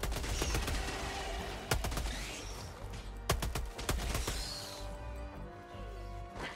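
SMG fire in the video game Helldivers 2 comes as several sharp, rapid bursts of shots with pauses between, loud against a busy background of game effects.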